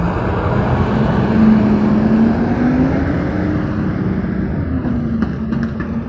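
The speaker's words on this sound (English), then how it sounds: "I'm gonna wait till this truck goes by" A truck drives past on a street on a Monday morning, a loud, steady rumbling engine drone that rises and eases over several seconds, close by, with no talking.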